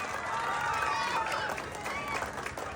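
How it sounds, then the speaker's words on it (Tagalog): Pageant audience claps and murmurs during a national costume segment, a moderately loud wash of crowd noise with faint shouts running throughout, heard from a distance. "Palakpakan naman po kayo,"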